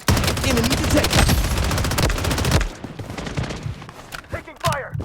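Gunfire in the mobile shooter Blood Strike: rapid, dense automatic bursts crowd the first half, then thin out to quieter scattered shots with brief in-game voice callouts.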